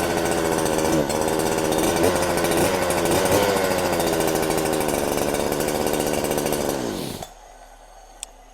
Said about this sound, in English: And that is how you start the chainsaws.